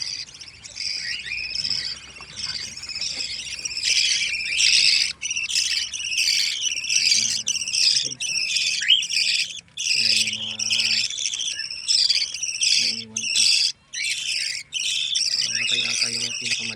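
Several chicks peep in a steady, shrill chorus close by, with talking heard over them in places.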